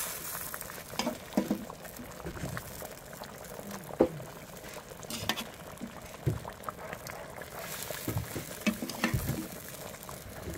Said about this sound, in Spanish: Ya está hirviendo